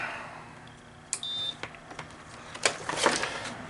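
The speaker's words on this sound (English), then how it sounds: "I turn on my vending tester" MEI CF7512 vending coin mech tester powering on with a single short electronic beep, followed by faint clicks and handling knocks in a quiet room.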